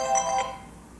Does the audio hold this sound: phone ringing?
yes